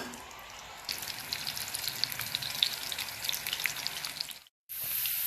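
Onions sizzle steadily in hot oil and ghee, a soft, dense crackle that starts abruptly, drops out for a moment and returns, close but fairly quiet.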